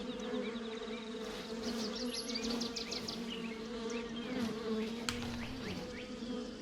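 Bees buzzing around hives in The Vale: Shadow of the Crown, a dense, continuous insect drone with individual buzzes sweeping past over a steady low hum, fairly quiet and with no speech.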